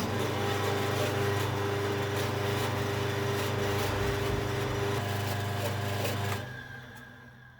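A Clarke bandsaw coolant pump motor runs on test with a steady electric hum and a whirring tone, then switches off and winds down near the end, with no talk.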